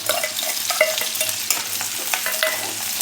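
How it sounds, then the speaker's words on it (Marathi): Onion sizzles in a hot pan for a Marathi methi bhaji, with the spoon stirring and scraping in a continuous close-up rhythm. "कांदा टाकून घेऊया."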